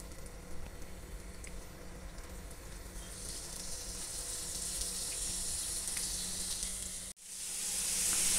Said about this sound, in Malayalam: ഇനി നമുക്ക് ഈ മീൻ ഷാലോ ഫ്രൈ ചെയ്തെടുക്കാം